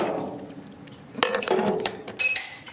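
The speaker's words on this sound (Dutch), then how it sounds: "Dat zijn die glazen balletjes die we horen." Small glass balls rattling inside a box with some broken pieces, sharp clinks and rattles in bursts after a quiet start, close by.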